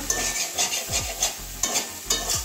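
Cauliflower florets frying in a pan while being stirred, with a steady close sizzle and rhythmic scraping strokes of a spatula repeating about every half second.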